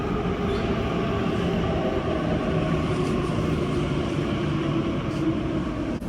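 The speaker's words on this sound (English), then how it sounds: "so here I am on the train" A London train rolls along in motion, a steady, loud rumble from inside the carriage with continuous wheel and engine drone and no talking.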